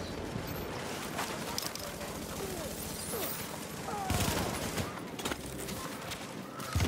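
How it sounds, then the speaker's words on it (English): Rapid crackling firecracker pops burst in a dense, uneven string in a video game, with some louder cracks and a busy background of game-like effects. "Dude, that's firecrackers. Firecrackers."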